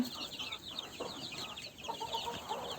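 Several chickens clucking and chattering at once, a busy overlapping flock heard at moderate distance, no talking.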